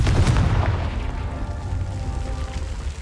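A Confringo blasting spell explodes in Hogwarts Legacy: a loud, deep boom that bursts at once and then rolls away into a long, fading rumble.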